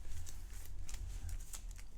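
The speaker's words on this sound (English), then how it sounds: "We shuffle these and put them in the back." A deck of status cards for a board game is shuffled by hand, giving soft, papery riffling rustles in several quick bursts, close and fairly quiet.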